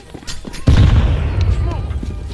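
A grenade goes off in a tactical video game, a sudden loud boom with a long rumbling decay, with muffled gunfire and a player's voice talking around it.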